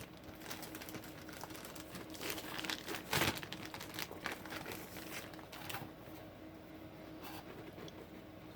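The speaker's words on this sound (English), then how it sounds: "I'm gonna actually take it out of the packaging here." Packaging rustles and crinkles as a Creative drive from around 1999 is unwrapped by hand, with paper tearing and a sharp crackle in the middle, fairly close and moderately quiet, no talk.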